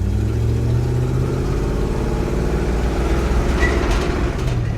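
An 80s Ford Bronco with a 351 V8 pulls hard under acceleration and shifts into second gear, a loud, steady low engine roar heard from close by with no voices.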